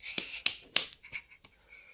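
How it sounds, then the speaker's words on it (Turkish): A three-year-old child claps their hands indoors after finishing a puzzle, giving a few sharp, uneven claps close by at moderate loudness, followed by softer taps. "Alkışla kendini."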